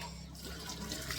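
Tap water runs steadily while a brass jug is rinsed in plain water, a continuous close splashing wash with faint sink clatter and no voices.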